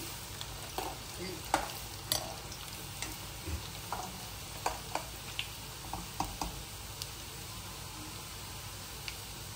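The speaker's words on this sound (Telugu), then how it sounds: "సో చివరిగా మంచిగా కరివేపాకు వేసుకున్నాను, అన్నీ మంచిగా ఎగురు చూడండి రెడ్గా వచ్చేసాయి మనకి" Dry red chillies and curry leaves fry in hot oil as a tempering for amla chutney, giving a steady close sizzle broken by sharp crackles, pops and light spoon-stirring clicks throughout.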